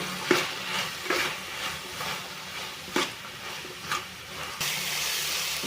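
Eggplant and bean curry frying on low heat in a pan, stirred now and then, gives a soft steady sizzle broken by a few spoon scrapes and knocks, heard close with no talking.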